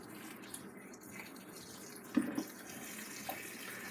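Filtered water pours from a tap into a glass for a homemade drink, a soft steady trickle close by, with a couple of brief splashy bursts and no talking.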